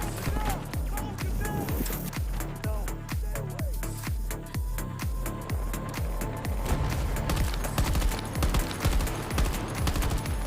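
Rapid blaster gunfire from Star Wars Battlefront crackles in a steady, fast stream of sharp shots, loud and continuous, with other game noise layered underneath.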